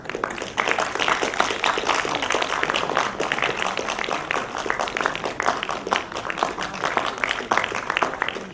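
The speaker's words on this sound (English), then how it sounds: "Please join us in applauding these distinguished dignitaries for their continued support and contributions." Sustained audience applause for dignitaries at an IEEE SILCON 2024 conference session, dense steady clapping from a large crowd lasting throughout, even and continuous at moderate loudness.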